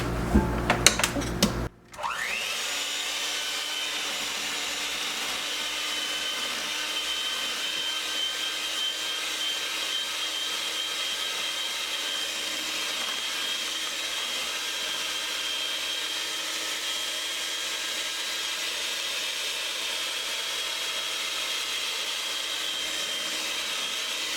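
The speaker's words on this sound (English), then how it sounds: "now I'm going to use my mixer, and I'm going to mix this about 6 or 7 minutes" Electric mixer beating batter for a Christmas treat, a steady whirring drone that runs continuously after a brief clatter at the start, close and fairly loud with no talk.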